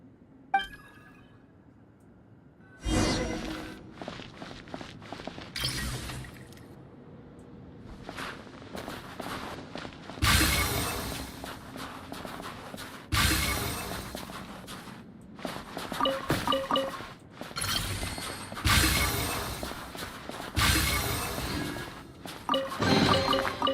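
Repeated bursts of crunching, shattering ice break out in irregular clusters, loud and close, with quieter crackles between them.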